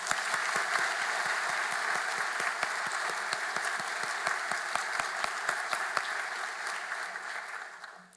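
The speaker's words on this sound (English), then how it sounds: "Please join me in a round of applause to recognize everyone who's here today." Graduation ceremony audience applauding together, a dense steady wash of clapping with distinct individual claps standing out, sustained for several seconds before slowly tapering off at the end.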